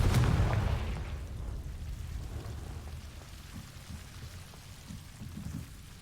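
A Confringo blasting spell from Hogwarts Legacy erupts as a loud low explosion at the start, then rumbles and crackles on as a debris-like wash that slowly fades without dying out.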